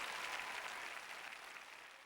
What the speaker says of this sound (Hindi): मगर इनके लिए एक ताली हो जाए।